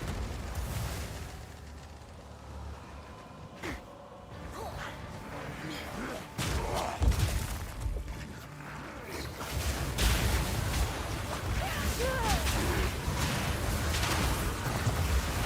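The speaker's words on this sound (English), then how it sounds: "There's our fire explosion snap chain reaction, which is really fun." Fire explosions set off a chain reaction in the video game Path of Exile 2: repeated bursts and crashes over continuous game noise, loudest in the second half.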